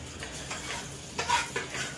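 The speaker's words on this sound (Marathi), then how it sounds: "आणि हा अद्रक संबारचा पेस्ट त्याला पहिले मी तळून घेणार आहे." Ginger paste sizzles and fries in a hot pan while a utensil stirs it, with a steady crackle and a few louder scraping strokes over two seconds.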